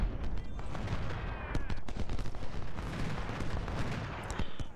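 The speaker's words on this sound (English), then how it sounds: "Let's get a cannon focused on him." Cannon and gunfire in a Civil War battle from the video game Ultimate General: Civil War, sharp repeated bursts and booms crackling over a steady battlefield din with no voices.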